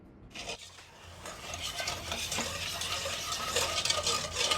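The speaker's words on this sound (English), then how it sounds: "turn our burner on to medium-high heat and keep stirring" Utensil scraping and stirring a mixture in a pot over medium-high heat, a steady swishing and clinking that continues throughout, with a faint sizzle and liquid movement underneath.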